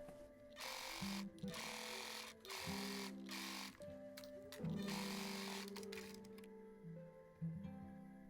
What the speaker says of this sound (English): once the sleeve is closed, I can zigzag stitch it just in case, and then hem it